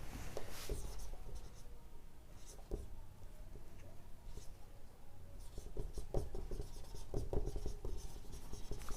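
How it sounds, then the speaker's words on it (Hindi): Pen or marker strokes scratch steadily while notes are written during a metallurgy lecture, a close, continuous scribbling with short pauses and bursts and no talking. "चलिए लिखते हैं"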